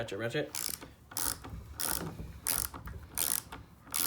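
A mini ratchet clicks in short bursts while a socket is tightened, the rapid pawl ticks coming in several close, fairly quiet spurts with handling noise between them.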